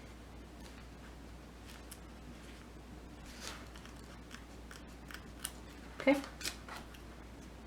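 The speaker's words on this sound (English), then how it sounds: "just trim that corner" Scissors trimming a corner of embroidered plush eyelash fabric, a few quiet close snips with the loudest cut near the end, over a faint background hum, a voice briefly speaking.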